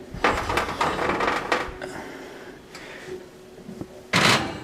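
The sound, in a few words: oven door opening and closing, putting pound cake in to bake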